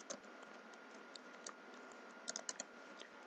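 Quiet, close typing of code on a computer keyboard, with irregular soft key clicks and a short quick burst of keystrokes near the end.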